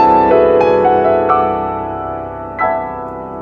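A Lydian augmented chord rings out as sustained harmony, its tones struck and re-struck a few times and then left to decay, clear and close with no talk.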